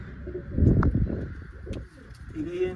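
Pigeons coo close by in a low, throaty burble, with a few faint chirps and quiet rustling around them.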